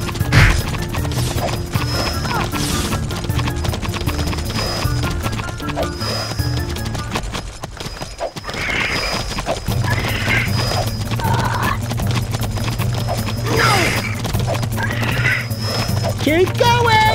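Leaper mounts racing against monks in the video game Jak 3, with neighing whinnies, clattering hoofbeats and thwacks over a steady game soundtrack, loud and busy.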